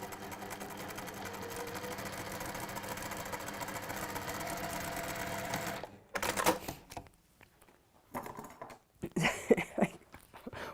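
Sewing machine chain piecing fabric, stitching in a steady rapid mechanical run for about six seconds, then stopping and giving a few short bursts between quiet pauses.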